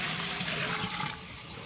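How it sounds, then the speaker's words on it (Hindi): Water pours steadily into a large deg cooking pot for chickpea pulao, a broad splashing gush lasting the whole short stretch and easing slightly near the end. "ये देखें, ये मेरे पास 7 किलो पानी है, ये मैं इसमें डालूंगा।"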